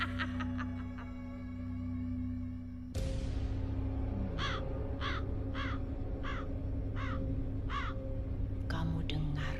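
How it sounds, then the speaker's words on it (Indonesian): A crow caws repeatedly in evenly spaced harsh calls, loud and close after a sudden shift in the background, following a stretch of quieter tones. "Kamu dengar suara gagak itu?"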